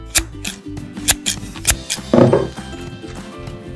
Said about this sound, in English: It's hard to open these scissors.